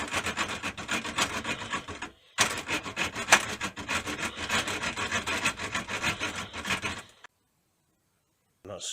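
A small hacksaw cuts through material for a gas bottle connection in a micro campervan, making rapid rhythmic rasping strokes close up. A brief pause comes early, then steady sawing resumes and stops abruptly before a quiet ending.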